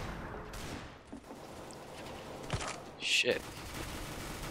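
Rapid bursts of gunfire from a Counter-Strike: Global Offensive match crackle through the game mix, with a louder burst near the end, while a player speaks briefly.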